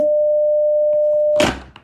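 A steady electronic phone tone hums alone after a call is hung up, holding one pitch for over a second before a brief rustle and thump cut it off.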